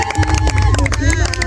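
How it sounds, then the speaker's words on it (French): An audience at a birthday celebration claps and cheers, a dense burst of applause with crowd noise and background chatter, loud and close, with voices mixed in. "Applaudissez très très fort, mesdames et messieurs."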